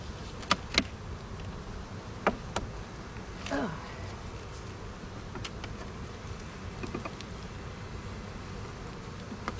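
Honey bees buzz around a hive box, a faint steady drone with several louder buzzes as individual bees pass close by.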